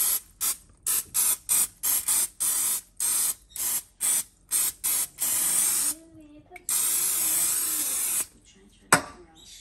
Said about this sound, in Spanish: Aquí voy a sprayar el molde y luego le voy a quitar el exceso de grasa para ingresar la gelatina.